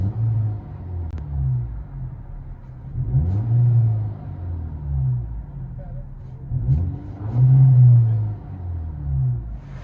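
A 2012 Audi A4 2.0L turbo with a muffler-deleted exhaust revs from inside the cabin, two loud swelling rumbles rising and falling over steady low idle drone.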